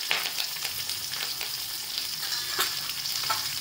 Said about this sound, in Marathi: चांगलं हलवून घ्यायची फोडणी